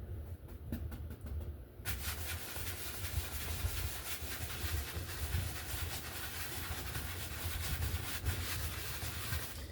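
An old 2-inch brush rubbed in quick crisscross, figure-of-eight strokes across an oil painting canvas, making a steady close scratchy swishing that runs on continuously after a brief quieter start.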